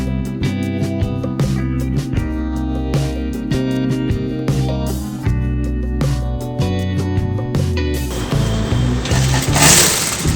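Sewing machine stitching darts on a blouse, loud rapid mechanical whirring in repeated bursts separated by short pauses, with a harsher rattling run near the end.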